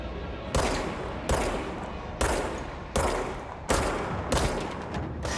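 Enemy gunfire in the game Control: six sharp bursts of rapid shots, each starting suddenly and fading before the next, loud and close with no talking.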